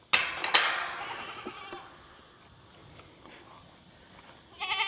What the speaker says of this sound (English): See, that goat's trying to sneak over there to his food.